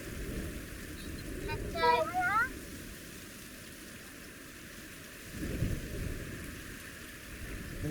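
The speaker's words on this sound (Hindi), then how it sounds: "बारिश पड़ रही है" Rain falls outdoors in Vietnam with a faint, steady hiss, broken by a couple of brief louder gusts of spatter.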